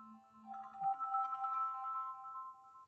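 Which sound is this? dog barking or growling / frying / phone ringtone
phone ringtone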